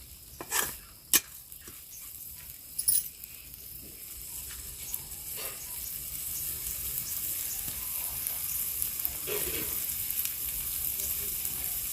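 Mandia crab curry ingredients frying in oil, a continuous hissing sizzle that grows denser toward the end, with a few early knocks and rattles of a utensil.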